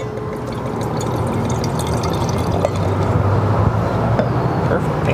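A drink poured into a glass at an outdoor grill meal with ribeye steak, a steady liquid rush set against a constant broadband background hiss and grill noise.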